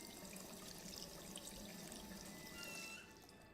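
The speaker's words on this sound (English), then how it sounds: "The tap lets out a sad squeal." A tap runs steadily in a video game, a continuous loud rush of water that drops slightly in level near the end, with no talking.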